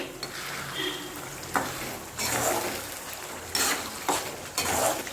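A thick kaara chutney bubbles and sizzles in a pan, oil separating, with several bursts of stirring and scraping close by, no voices.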